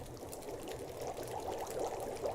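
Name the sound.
water being poured to boil in The Long Dark video game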